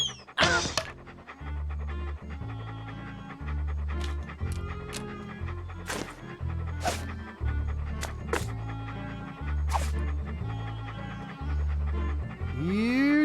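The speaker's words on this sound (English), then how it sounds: "Here, doggy doggy." A dog in the video game Monkey Island 2 pants in quick, steady bursts over a looping, rhythmic game music track, with a few brief sharp accents along the way.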